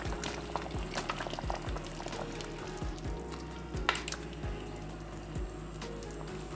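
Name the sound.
stirring a pot of Jamaican vegetable soup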